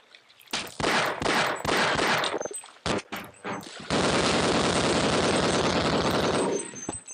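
Gunfire in Half-Life, fired underwater: loud, rapid bursts of shots start and stop several times, then give way to one long continuous volley that fades out near the end.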